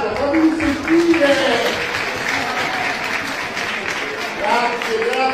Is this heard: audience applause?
yes